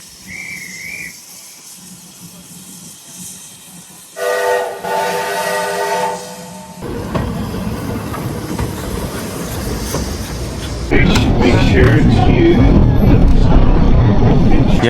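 A steam train on a mountain railway whistles in a long loud multi-tone blast, then starts moving. Its wooden carriages creak and rattle louder as it gathers pace, with clattering over the rails close by.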